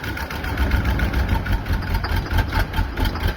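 A box truck engine with low compression runs in gear, a steady, loud, close rumble with a rough low throb and no talk over it.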